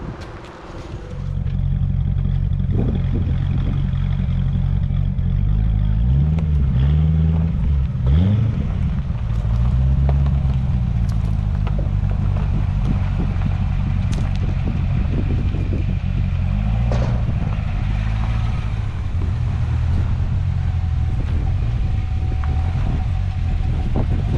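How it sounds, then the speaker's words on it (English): A Corvette Z06 engine runs on a dyno, a loud sustained rumble with rising and falling revs and clattering, continuous and close throughout. "I am putting it on the dyno right now, and we'll see how it does"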